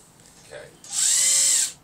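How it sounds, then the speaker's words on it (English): A power drill spins up and runs steadily for about a second while drilling wood for a toolbox, loud and close, after a faint brief sound and low voices. "We're going to drill."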